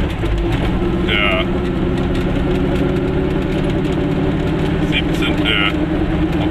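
A car drives through Cassino, Italy, in the early-evening dusk, its engine a steady, loud drone with vibration from start to finish, while people talk in the cabin over it.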